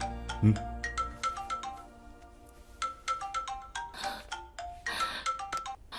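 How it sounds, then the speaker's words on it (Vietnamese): A mobile phone ringtone plays a repeating bright electronic melody of short chiming notes, fairly close and steady, with some background noise and movement. "Em nghe điện thoại trước đi."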